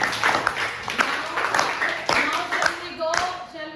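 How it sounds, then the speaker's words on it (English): Children in a classroom clap together in a quick, uneven burst of close hand claps, with voices mixed in toward the end. "Clap for yourself."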